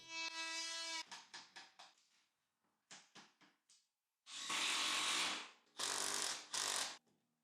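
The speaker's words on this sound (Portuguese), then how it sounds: "Vou cortar parte da moldura da janela para ficar rente à parede." A power tool cuts part of a wooden window frame so it sits flush with the wall, heard in short whining bursts that stop and start, several quick pulses, then longer sustained cuts, close and loud with silence between.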